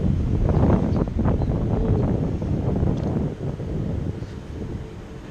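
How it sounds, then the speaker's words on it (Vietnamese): Wind gusts buffet the microphone outdoors on a hot day, a loud rough roar that swells early and slowly eases off over several seconds, with no voices. "Hên là còn được chút gió đó."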